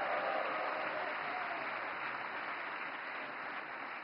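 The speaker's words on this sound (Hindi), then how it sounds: "नवकार मंत्र के लिए जितनी ताली बजी, उससे ज्यादा जीतों के लिए बज रही है।" Steady applause from a large audience at an event with Prime Minister Narendra Modi, a dense, even wash of clapping that tapers slightly over several seconds.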